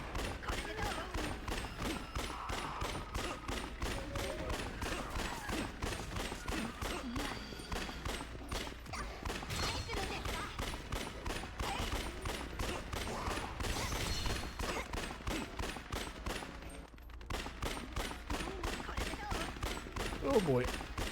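The golden gun fires in the video game Like a Dragon, a fast, relentless stream of sharp shots that rattles on with hardly a pause for over twenty seconds, fairly quiet in the mix.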